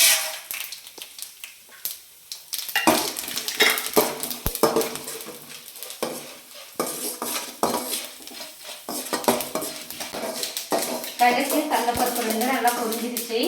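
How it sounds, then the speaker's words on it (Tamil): Mustard seeds and chana dal crackle in hot oil, a steady busy sizzle with spoon clatter against the pan and sharp utensil clinks throughout, close and fairly loud. "எண்ணெய் நல்லா சூடாயிடுச்சு கடுகு கடலப்பருப்பு ரெண்டு சேர்த்துக்கலாம்"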